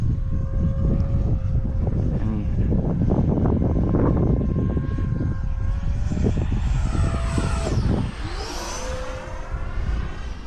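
An E-Flite Viper 90mm RC electric ducted-fan jet flies past in gusty wind, its loud, steady whooshing roar rising and sweeping in pitch as it passes close by, then fading slightly as it moves away.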